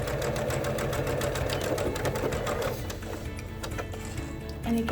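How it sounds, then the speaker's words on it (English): A sewing machine stitches a channel in a fabric face mask liner, its needle running in a fast, steady mechanical chatter that slows and turns more irregular toward the end, close up with no talk. "we're just sewing the channel here for the pipe cleaner"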